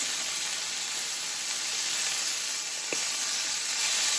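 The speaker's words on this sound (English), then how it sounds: "Now I'm sizzling." Country-style steak sizzling in hot oil on a stovetop, a steady close broadband crackle and hiss running throughout with one sharper pop near the end.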